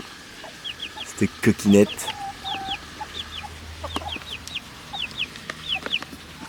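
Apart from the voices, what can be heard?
chickens clucking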